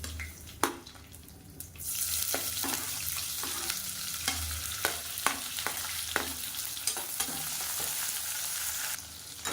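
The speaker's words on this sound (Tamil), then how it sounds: "இப்போ வெங்காயம் இந்தளவுக்கு வதங்கினா போதும்" Sliced onion frying in a pan with fennel, curry leaves and mint, a steady loud sizzle with repeated clinks and scrapes of stirring, no talk.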